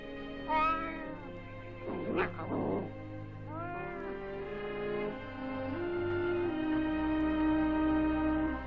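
Several short, plaintive cat meows, close by, over a steady low engine hum with a brief rustle in between.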